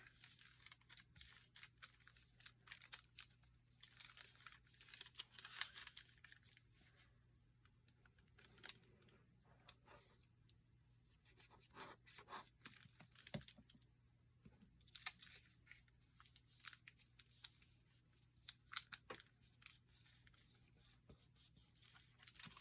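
Paper is creased and folded over along its edge by hand, making soft, close rustles and faint scraping taps in intermittent bursts with quiet gaps in between, low in level with no speech.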